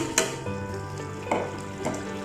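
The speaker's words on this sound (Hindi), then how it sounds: "अब हम इसमें डाल देते हैं ये ब्राउन की हुई प्याज" Mashed browned onions go into a sizzling mutton korma masala in a pan. The frying hiss runs steadily, broken by a few clanks and scrapes of a spoon stirring nearby.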